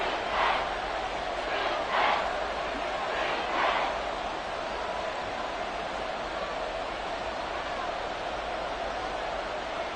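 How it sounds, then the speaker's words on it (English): A stadium crowd roars during a football game in Madden 24, a dense, loud, continuous wash of cheering with a few swelling surges early on. "This crowd doing all they can."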